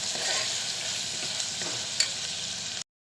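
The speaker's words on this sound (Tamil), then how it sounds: "1 ஸ்பூன் அளவுக்கு இஞ்சி பூண்டு பேஸ்ட்டு. பச்சை வாசனை போகிற வரைக்கும் நல்லா வதக்கிட்டு" Ginger garlic paste sautés in a pan with a steady, close sizzle and a single soft stir clack near the middle before the sound cuts off abruptly.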